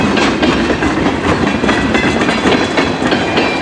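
A CN local grain train passes close by, a steady loud rumble with rhythmic clickety-clack of wheels over rail joints throughout.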